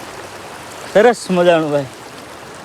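Stream water flowing at a water crossing near Bhalkhet waterfall, a constant close rushing hiss throughout, with a man's short remark briefly over it.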